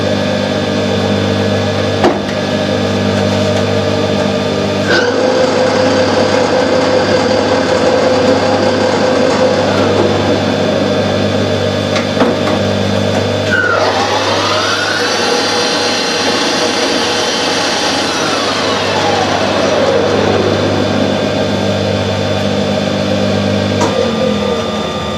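A Harrison lathe runs steadily while cutting metal, a continuous machine whine with tonal hum and shifting pitch as the cut and speed change, loud and close throughout.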